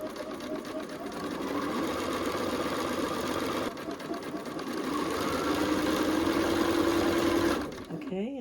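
A sewing machine runs fast and steadily as pieces of a southwest-style blanket are joined, a close continuous mechanical whir lasting several seconds before stopping near the end, with a voice heard over it.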